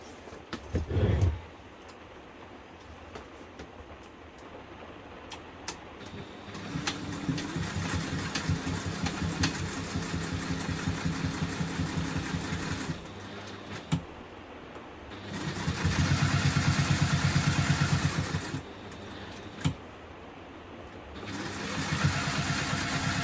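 Sewing machine stitching a fabric bag, a steady mechanical whirr running in long bursts with pauses between runs, close and moderately loud, no talk.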